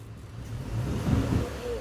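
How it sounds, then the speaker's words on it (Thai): A 2007 Toyota Fortuner petrol engine fitted with a Dino Box Raptor throttle controller gives a short, smooth rev, the low engine note swelling briefly and settling back. "พี่ลองเบิ้ลคันเร่งดู"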